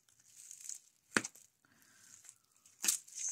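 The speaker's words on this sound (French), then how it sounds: "on va utiliser les ciseaux" Scissors cut open a cross-stitch kit package, giving two sharp, brief snipping and tearing bursts with soft plastic crinkling between them. The sound is quiet and close, with no talking.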